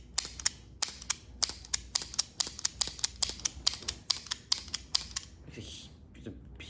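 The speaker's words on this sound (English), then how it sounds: "It's a huge clicking noise." A Jurassic World Survival dinosaur toy's action feature clicking, a rapid series of sharp, evenly spaced plastic clicks close up, loud and dry, stopping near the end as faint handling noise follows.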